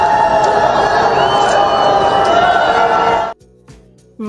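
A large outdoor crowd at a Chilean ceremony loudly jeering and booing, a dense sustained roar of voices that cuts off abruptly near the end and gives way to brief quieter sounds.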